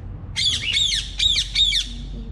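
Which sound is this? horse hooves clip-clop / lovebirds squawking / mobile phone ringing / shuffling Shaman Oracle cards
lovebirds squawking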